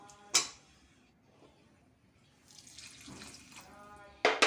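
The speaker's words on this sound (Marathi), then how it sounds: "मंद आचेवर थोडं पाणी टाकायचं" Water is poured into masoor dal in a cooking pot on a low flame, giving a soft splashing pour in the second half, set between a few sharp clinks near the start and the end.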